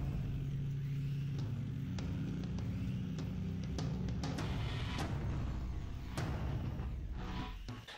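A combat robot prototype driving around, giving a continuous low motor rumble and whine with scattered knocks and clatters as it moves, close and steady throughout.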